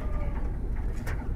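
Giribaz pigeon, a young bird kept at home in a Narayanganj village, coos softly and continuously at close range with no talk over it.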